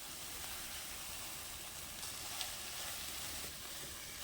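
A sticky watermelon-rind preserve cooks in a wok, giving a steady, quiet sizzling hiss throughout as it is stirred.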